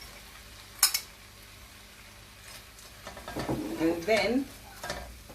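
Rice tipped into sautéed vegetables in a hot pan for chicken fried rice: a sharp clank, then rising sizzle and scraping stirs that grow louder toward the end, close by, with a brief spoken phrase.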